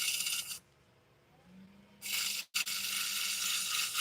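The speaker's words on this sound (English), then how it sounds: "I'm going to use a little bit more of an aggressive sandpaper, and I'm just going to try and flatten that out a bit" Coarse, aggressive sandpaper rubbed over wood to flatten a spot, heard as two close, steady abrasive passes with a brief quiet gap between them and no talking.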